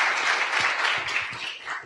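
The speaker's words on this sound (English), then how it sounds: "Please give her a round of applause." Audience at a food-as-medicine national summit applauding, a dense, steady wash of clapping from a crowd that fades slightly over under two seconds.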